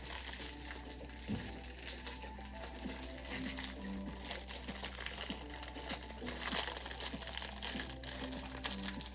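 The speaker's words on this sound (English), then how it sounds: "You'll need to cover and bake this casserole, so prepare a large sheet of foil." A large sheet of aluminium foil crinkles and rustles continuously while being prepared to cover a lasagna casserole, a busy close crackling texture at low level with no talk.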